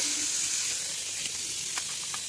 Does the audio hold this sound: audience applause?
no